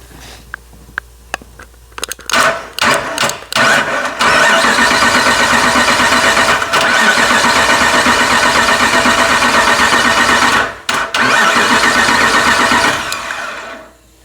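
A rebuilt 5.7-litre engine in a 2009 Ram pickup cranks with a few catches, fires up and settles into a loud, steady idle close by. A light lifter tick rides under the running engine, with one brief dip partway through.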